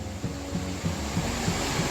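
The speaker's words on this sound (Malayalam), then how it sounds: "എത്ര മനോഹരമായൊരു വെള്ളച്ചാട്ടമാണെന്ന് നോക്കി" A waterfall in Vagamon heard as a steady, loud wash of rushing water, broad and unbroken for the whole short stretch, with faint low thumps beneath.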